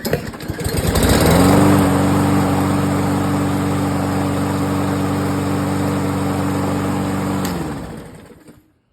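A small engine that has sat unused for six months, with transmission fluid added to its fuel, starts cold and settles into a loud, steady, buzzing idle close by, then cuts off and falls silent.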